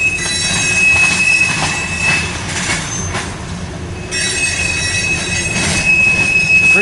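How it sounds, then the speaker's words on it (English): A loud freight train with tank cars rolls past nearby, wheels squealing in long high-pitched tones over a continuous heavy rumble of passing cars. "I stop recording this train heading north"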